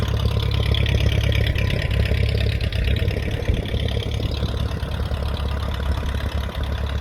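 A Case VAC tractor engine idling after a cold start on choke alone, with no block heater, a loud, steady low rumble with a fast regular pulse continuing without a break.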